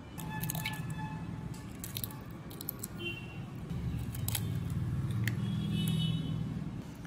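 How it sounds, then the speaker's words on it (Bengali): Eight eggs are cracked into a bowl one after another, giving brief wet squishes and drips over a background hum with no speech. "আটটা ডিমই ফাটিয়ে নিয়েছি।"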